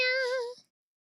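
A voice imitates a cat's meow in one drawn-out, whiny call that fades out after about half a second, followed by silence.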